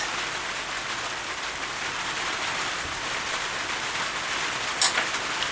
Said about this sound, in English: It's the sound of rain.